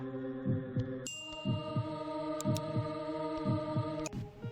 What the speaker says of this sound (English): your heartbeat gets louder and louder